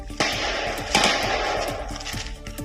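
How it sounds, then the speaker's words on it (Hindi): Heavy gunfire exchange between security forces and Naxalites in dense forest, with loud sharp shots cracking out in rapid irregular bursts and overlapping volleys throughout, a few louder blasts standing out near the start and around one second. "वीडियो में दिखा कि दोनों तरफ से भयंकर फायरिंग हो रही है"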